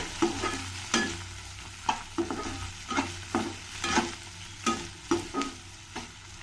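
Spatula stirs and scrapes in a pan in repeated sharp strokes over a steady low sizzle of tomato and capsicum frying in tempering oil, with no one speaking.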